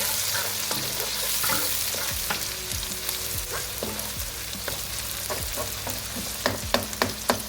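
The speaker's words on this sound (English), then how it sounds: "Oh, listen to that sizzle." Steady crackling sizzle of shallots frying in a hot pan, with occasional sharper pops and scraping stirs near the end.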